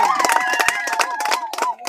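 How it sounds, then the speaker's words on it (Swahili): A crowd at a CCM party branch's 49th-anniversary celebration in Mapogoro, Mshewe ward claps and cheers loudly, with sharp hand claps over a busy mix of voices and shouts. "Makofi mengi mengi kwangu."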